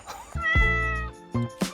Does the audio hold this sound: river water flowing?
no